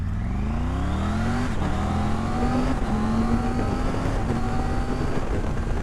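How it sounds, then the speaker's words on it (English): A 2024 Triumph Tiger 900 Rally Pro adventure motorcycle pulls away hard from first gear, its engine note climbing loudly and dropping briefly at each quick-shifter upshift before rising again, close and continuous. "So let's start off in first gear and try this quick shifter, shall we?"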